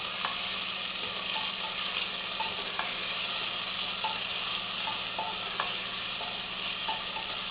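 Onions frying in a pan for Punjabi chole make a steady, close sizzle with scattered small pops and crackles, running alone without any talk.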